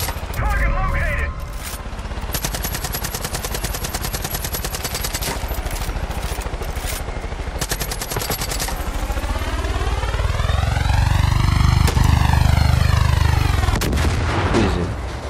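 Dense, relentless gunfire fills a Far Cry 5 game scene, with rapid automatic bursts and heavy booming reports that run continuously. A rising and falling engine-like whine sweeps through the second half, and game voices sound faintly beneath the din.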